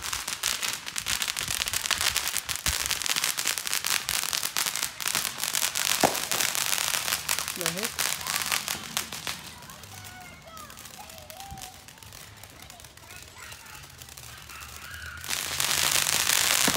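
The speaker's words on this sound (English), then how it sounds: "Everyone's sending off fireworks." Rapid crackling bursts of Fourth of July fireworks popping continuously, dense and loud, with scattered whistles and a few distant voices underneath; a louder crackle swells near the end.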